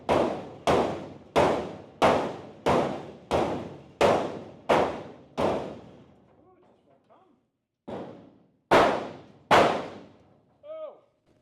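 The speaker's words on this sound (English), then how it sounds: "I always use a rubber hammer to do this" A rubber hammer taps the car body of a Camaro in a steady run of about nine evenly spaced, dull thuds, then after a short pause three more blows land, each close and solid.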